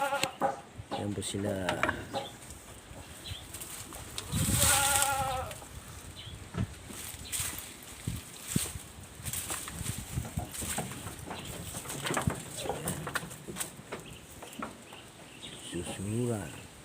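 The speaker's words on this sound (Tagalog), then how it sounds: "Ito po yung ating mga barako" Goats, including bucks, bleat on a farm while being fed jackfruit, several wavering calls near and loud at the start, middle and end, with a person talking and some rustling and mechanical noise in between.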